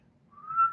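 A person whistles a short rising western-movie style note imitating a lone-wolf whistle, brief and close, alone without talk.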